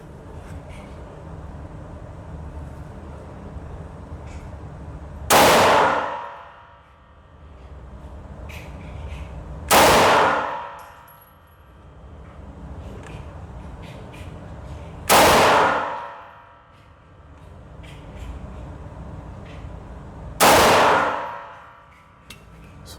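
A Canik TTI pistol firing 124 grain Aguila rounds at a target: four loud, sharp single shots spaced about five seconds apart, each with a ringing tail that dies away over steady outdoor background noise.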